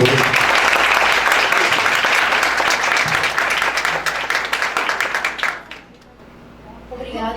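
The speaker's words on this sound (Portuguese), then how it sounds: "Uma salva de palmas para todos." An audience at a university event applauds steadily and loudly for several seconds, then the clapping fades out and a voice begins speaking.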